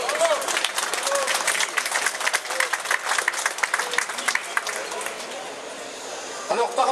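A crowd at a surprise birthday celebration bursts into clapping, dense applause near and loud, with voices mixed in, tapering off over several seconds.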